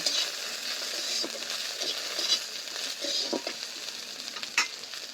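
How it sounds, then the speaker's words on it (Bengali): Okra and panch phoron spices frying together in a pan, a continuous bright sizzle with the intermittent scrape and clatter of stirring. "এবার আমি ঢ্যাঁড়স আর 5 ফোড়নটা একই সাথে নাড়াচাড়া করে নেব।"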